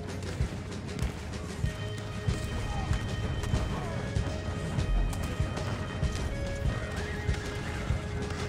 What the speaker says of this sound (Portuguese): meu cavalinho ficou lá atrás